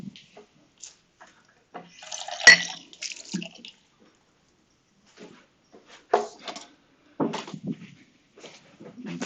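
A drinking glass is rinsed at a sink after homebrew beer is dumped out of it. Brief splashes and drips come in scattered bursts, separated by quiet gaps, close and fairly soft.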